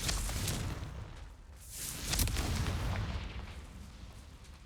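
Confringo explosive spell in Hogwarts Legacy, a loud booming blast swelling out of a continuous roar of battle noise, with a second surge of rumble partway through.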